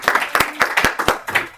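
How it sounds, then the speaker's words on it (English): A small audience gives a brief burst of applause after a talk, with a few distinct, sharp claps in quick succession for under two seconds, close and clear. "Extra time for applause."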